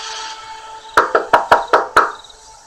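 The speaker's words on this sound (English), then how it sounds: "There was no doorbell, so I just knocked really hard." Six loud, hard knocks land on a building's front door, close and sharp, in an uneven rapid sequence after a moment of quiet hum.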